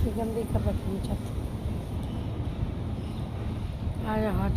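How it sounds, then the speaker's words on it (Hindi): Steady wind rushes and buffets the microphone throughout, with brief bits of someone talking at the start and end. "आज हवा चल रही है बहुत मस्त"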